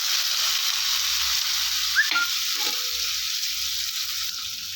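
Chopped onions fry in hot oil for chicken curry with a steady, bright sizzle, interrupted briefly by a clink of a spoon against the pan.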